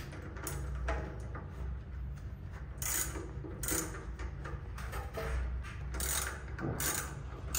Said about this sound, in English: Kemudian kita ikat pakai wrench.